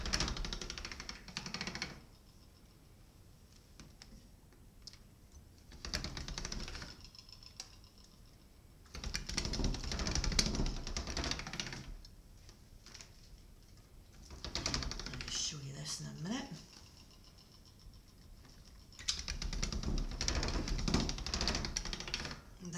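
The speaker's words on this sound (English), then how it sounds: "I'm just going to put it through the machine." Slices of polymer clay being fed through a machine, producing repeated bursts of knocking, cranking clatter separated by quieter pauses, close and fairly loud.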